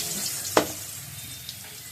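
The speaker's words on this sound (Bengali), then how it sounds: "এবার তাহলে দিয়ে দিব মেথি ফোড়ন মেথি ফোড়নটা একটু ফুটুক" Fenugreek seeds crackle and sizzle in hot oil left over from frying fish, a steady hiss broken by one sharp spit partway through and a faint later pop.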